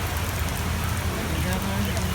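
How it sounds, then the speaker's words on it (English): Heavy rain pours down steadily at the Aulani resort, a dense, continuous hiss of drops drumming on surfaces close by, with no breaks. "Raining pretty hard, and John and I are under the umbrella"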